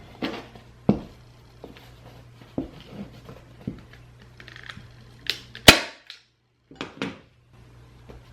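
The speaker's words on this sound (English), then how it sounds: "And I staple it." A staple gun fires into upholstery fabric on a kitchen chair being reupholstered: a series of sharp, close snapping clicks at irregular intervals, some louder than others, with quiet handling noises between them.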